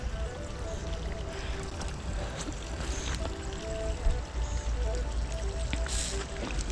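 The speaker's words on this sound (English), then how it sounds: "There is water. Some fountain over here." A water fountain in Friendship Park in central Addis Ababa, Ethiopia, splashes and pours in a steady, even rush, with faint voices in the open air.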